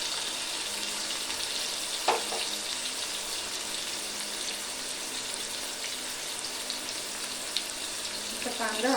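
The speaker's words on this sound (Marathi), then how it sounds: "छानपैकी आपल्याला फ्राय करून घ्यायचं आहे" Onion frying with cumin in a pan makes a steady, fairly quiet hiss with a few brief clinks and stirring scrapes, and a short burst of clatter near the end.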